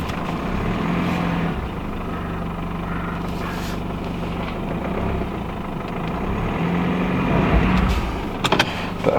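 A four-wheel-drive vehicle pulls out with its wheels spinning on blocks, giving a steady engine drone with a low, continuous rumble throughout and a few sharper knocks near the end.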